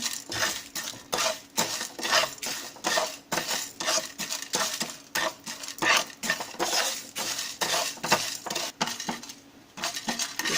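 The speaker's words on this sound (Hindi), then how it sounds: "अभी ये और थोड़ा भूनेंगे।" Chole masala spices being dry-roasted in a pan, with a spoon clinking and scraping steadily against the metal in quick, irregular strokes, close and fairly loud, with no talking.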